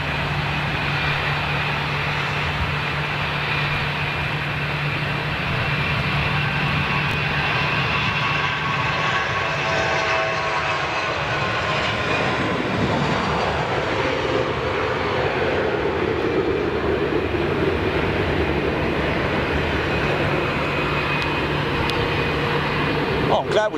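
A Qatar executive jet passes overhead, its engine roar steady and fairly loud, swelling and shifting pitch as it goes by, with a low hum underneath throughout.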